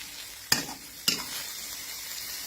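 Fermented Mekong fish roe, som khai pla, frying in a pan over high heat, a soft continuous sizzle broken by two sharp spatula clacks against the pan early on, then a quieter fizz; no talking.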